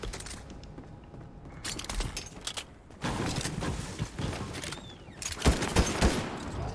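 Gunshots in the video game Fortnite, scattered sharp shots and short bursts over a busy, muffled background, fairly faint overall.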